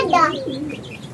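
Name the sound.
pet pigeon cooing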